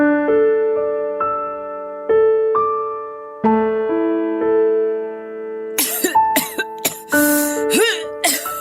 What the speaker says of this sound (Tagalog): Mukhang hindi na po magandang ubo nyo